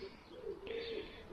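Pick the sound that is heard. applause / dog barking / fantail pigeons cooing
fantail pigeons cooing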